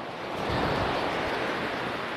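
Atlantic ocean waves wash onto a sandy beach at a French coastal village, a steady broad rushing surf close by, with no talking.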